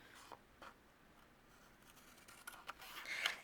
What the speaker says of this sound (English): of course, we're going to trim this off.